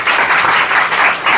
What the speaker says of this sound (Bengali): চলো একটা হাততালি জোরে সোমকের জন্য।